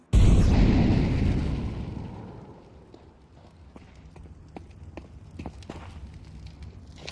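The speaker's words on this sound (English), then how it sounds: "Flashbang." A Valorant flashbang grenade goes off with a sudden loud burst that fades over about two seconds, followed by quieter scattered clicks and footstep-like taps during in-game action.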